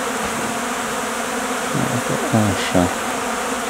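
Honeybees buzz steadily at beehives in February, a close, continuous drone broken by a few louder passes of individual bees; a single brief word is spoken near the end.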